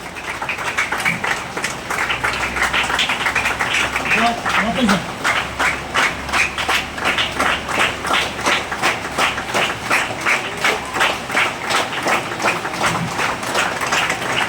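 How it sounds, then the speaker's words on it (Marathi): Students and audience at a teacher's retirement-day school assembly clap in a steady, sustained round, many hands close by keeping up an even rhythm, with faint voices beneath. "सगळ्यांनी टाळ्या वाजवायचं आहे."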